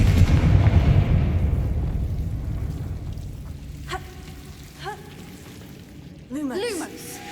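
The Confringo blasting spell goes off in the Hogwarts Legacy video game, a dull rumbling boom that fades out over several seconds. Game sounds follow with a few rising magical chimes, and a voice speaks near the end.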